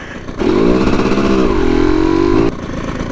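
A 2022 TM EN300Fi fuel-injected dirt bike engine fires up and revs, a loud, close buzzing drone that climbs, settles to a steady pitch, then cuts back sharply to a rough idle.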